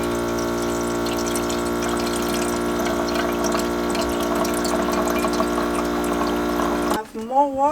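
Water pours steadily into a jar at a remote van-life camp, a continuous close rushing stream that cuts off near the end, with a voice speaking briefly as it stops.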